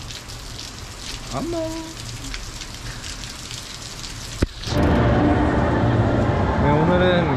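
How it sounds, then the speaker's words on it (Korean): Steady rain falls outside during a rainy day in Japan near a hot spring stay, a broad continuous hiss that swells louder partway through, with a brief voice speaking over it early on. "바깥에서 이렇게 비가 오는데"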